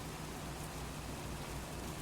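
Steady rain falls in the Farming Simulator 25 game, an even, faint hiss of constant patter with no breaks or other sounds over it.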